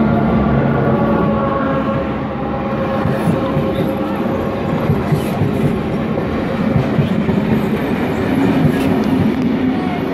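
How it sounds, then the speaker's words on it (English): A steam train rumbles steadily past at close range through Glenbrook station, wheels clattering rhythmically on the rails with a continuous heavy mechanical roar. "we'll shortly have a steam train"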